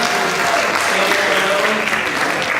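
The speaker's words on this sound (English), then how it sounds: "Give yourself a round of applause." Audience at a Sunday Assembly gathering applauding steadily, a full wash of clapping from many hands with faint crowd voices underneath.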